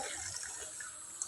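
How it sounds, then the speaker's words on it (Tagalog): Water runs steadily from an outdoor faucet with a continuous hissing splash, close and moderately loud, with no voices over it. "ito pala yung gripo guys"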